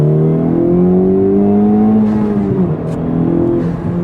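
Manual transmission car accelerating hard at full throttle toward redline, a loud, close engine note climbing in pitch and then dropping as the revs fall, with no talk.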